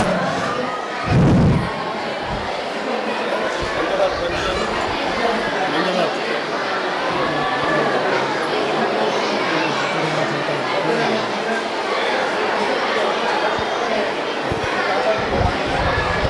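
Children in the audience at a free study kit distribution program chatter continuously, a dense murmur of many young voices with a brief thump near the start, steady and moderately loud.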